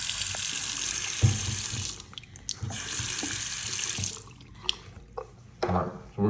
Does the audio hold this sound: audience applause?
no